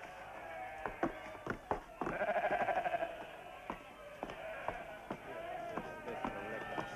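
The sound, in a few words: sheep bleating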